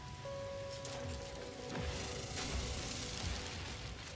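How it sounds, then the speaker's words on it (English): Poison rain falls steadily in the No Man's Sky game, a continuous patter of drops with a few soft bursts and thuds mixed in over a low ambient hum. "Poison rain."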